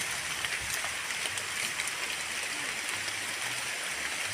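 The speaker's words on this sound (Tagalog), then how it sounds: "Ah, abutan na tayo ng ulan." Rain falls steadily outdoors on a farm with water buffalo, a dense, even hiss of drops on surfaces that is close and continuous throughout, with no talking.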